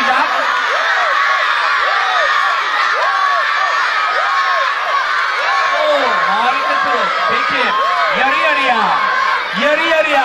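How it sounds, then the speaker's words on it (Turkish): Schoolchildren in a crowded primary school festival hall shout competing names in a loud cheering contest, a dense continuous roar of young voices with whoops and laughter rising and overlapping throughout. "Yunus Emre diyenler Yunus Emre diye bağırsın. Arda diyenler Arda diye bağırsın."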